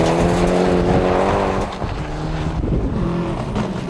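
A Group N rally car races hard over a mountain stage, its engine loud and close as it revs up and down through the gears.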